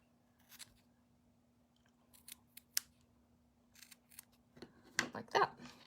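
Scissors trim the loose ends of a ribbon bow on a craft wreath, giving several faint, sharp snips spread out over quiet room tone, with a cluster of louder, closer cuts near the end.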